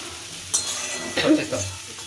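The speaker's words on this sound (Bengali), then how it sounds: "এটা নাড়তে হবে যাতে এই ডালিয়াটা তেলে ভাজা ভাজা হয়ে যায়।" Scraping and stirring in a pan with a soft sizzle of broken wheat frying in oil, a few clinks of a utensil against metal.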